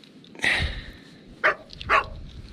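A dog on a seaside outing barks three times, with a longer first bark followed by two short, sharp ones, loud and close against quiet shoreline background.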